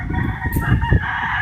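Loud, close clucking from several chickens with a rooster's crow rising over them, alone without talk.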